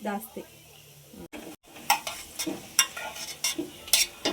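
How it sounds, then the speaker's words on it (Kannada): Cashews frying in a pan for a dhaba-style kaju paneer butter masala, a soft sizzle under repeated scraping and stirring strokes from a spoon, heard up close. "ಈ ರೀತಿ ಫ್ರೈ ಮಾಡಿರೋ ಗೋಡಂಬಿ ಸ್ಮೆಲ್ ಹೆಂಗ್ ಬರ್ತಾ ಇದೆ ಅಲ್ಲ"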